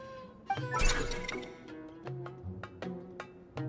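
A cat character meows in the video game Genshin Impact, a burst of short cries over a busy bed of game music and effects, with several further brief calls spaced through the clip.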